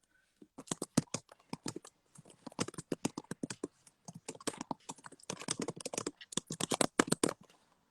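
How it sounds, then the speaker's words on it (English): Rapid, uneven typing on a computer keyboard, close and clear, with bursts of clattering keystrokes and brief pauses across the stretch, no voices. "typing on that keyboard, eh?"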